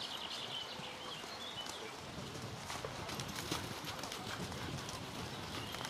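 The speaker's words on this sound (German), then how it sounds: "Im Arbeitstempo leicht traben." Horse trotting lightly at working pace on a circle in a riding arena during a dressage session, steady hoofbeats heard at moderate distance over broad outdoor noise, with faint birdsong in the background.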